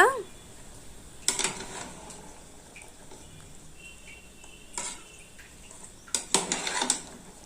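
A spoon clinks and scrapes in a pot as rice is stirred into chicken gravy for a pressure cooker basmati chicken biryani, in a few short bursts spread across a quiet background.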